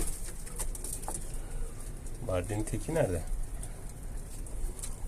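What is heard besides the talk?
pigeons cooing in a coop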